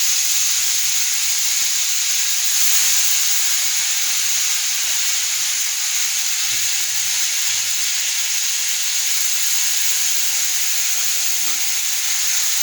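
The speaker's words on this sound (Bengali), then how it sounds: "এরপর আমি ছেড়ে দেব আদা জিরে বাটা।" Ginger and cumin paste added to hot oil in a pan, giving a loud, steady, even hiss and sizzle that lasts throughout with no talking.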